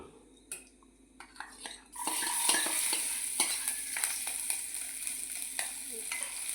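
Garlic frying in a pan sizzles steadily while a spoon scrapes and stirs it, with close clinks against the metal after a quieter opening.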